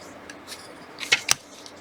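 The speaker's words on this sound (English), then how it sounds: "I'm going to cut my fabrics off" Scissors snip through quilting fabric in two quick, close cuts, crisp and near, with faint rustling before them.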